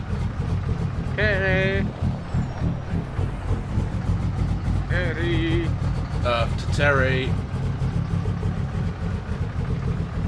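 Truck engine idling with a Cummins sound mod in Euro Truck Simulator multiplayer, a steady low rumble running throughout beneath people talking over voice chat.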